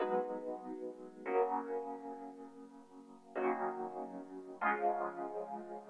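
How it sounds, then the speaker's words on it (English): Layered synth preset from Analog Lab stacked with keys, playing sustained bright chords in four separate hits that each swell and slowly fade, dry and upfront with no voices. "I just grabbed this little synth preset out of Analog Lab and I layered the keys with it."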